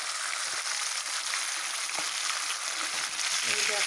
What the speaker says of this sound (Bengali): আর এদিকে আরও মাছ ভাজি বসিয়ে দিয়েছি, এগুলো হয়ে যাচ্ছে ভাজি।